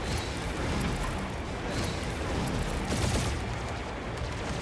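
Continuous dense gunfire from the video game Marvel's Guardians of the Galaxy, loud, sustained bursts of shooting packed together with no pauses and no speech.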